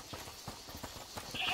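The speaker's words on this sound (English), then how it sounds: "Is that the goat you talked about?" A goat's hooves clip-clop in A Plague Tale Requiem, a steady series of light, evenly spaced taps at a walking pace, soft and close.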